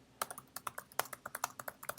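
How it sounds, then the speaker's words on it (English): Quick, light keystrokes on a computer keyboard tap out an uneven run of about fourteen crisp clicks in two seconds, close and quiet with no voices. "you can even type in instructions for your kids"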